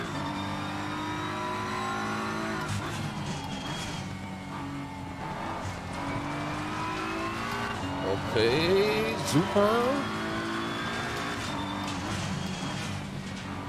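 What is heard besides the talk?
race car engine revving and driving in a video game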